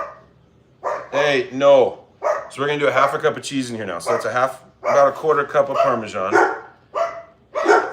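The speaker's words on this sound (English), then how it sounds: "Uh-oh, sorry about the dogs, guys." Dogs bark repeatedly indoors in a home kitchen, loud and close, in several short bursts that break up and overlap a person talking while cooking.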